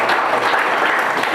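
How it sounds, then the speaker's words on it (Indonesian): Steady audience applause at a motivational talk, a dense continuous wash of clapping hands at even loudness throughout. "tepuk tangan lagi"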